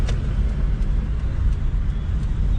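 Hyundai Santro Xing hatchback driving at speed, a continuous low engine hum and tyre-road roar heard from inside the car, steady and fairly loud with faint ticks and no talking.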